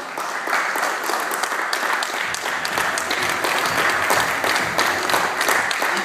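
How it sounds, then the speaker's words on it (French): Loud, dense applause from an audience at an award ceremony, continuous clapping throughout without a break. "J'aimerais qu'on l'applaudisse très très fort."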